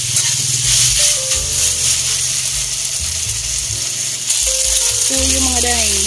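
Meat being stirred with oyster sauce in a hot frying pan while cooking pansit guisado: continuous sizzling and frying hiss with scraping and rattling stirring sounds, plus steady tonal background sounds.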